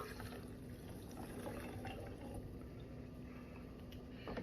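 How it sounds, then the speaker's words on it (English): Liquid stock pours steadily into a pot of rice and rinsed canned red beans, a continuous close splashing gush that lasts throughout with no voices. "I'm just going to add 1 2/3 cup of stock."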